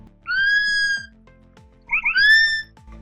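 A sloth gives two drawn-out, whistle-like calls, each close and clear with bright overtones, separated by a short pause.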